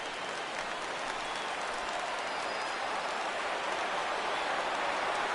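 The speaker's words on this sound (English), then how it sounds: "Crowd gets up for the 3-2." A stadium crowd in MLB The Show 17 roars and murmurs steadily for a 3-2 count in a Red Sox versus Astros game, a dense, even wash of cheering with no clear breaks.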